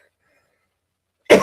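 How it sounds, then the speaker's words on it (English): A single sharp cough from someone who swallowed wrong, close and loud, bursting abruptly out of near silence at the very end. "Pardon my cough."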